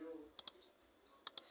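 Two quick pairs of sharp computer mouse clicks, close and crisp, separated by a short pause, over quiet room tone with a faint voice at the start.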